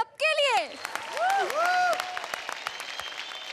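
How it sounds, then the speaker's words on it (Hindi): On a televised dance competition stage, the studio audience applauds the dancers with a steady crowd clapping under swooping, sung-like voices and talk near the start, before the clapping carries on at a moderate level. "जोरदार तालियां सबके लिए"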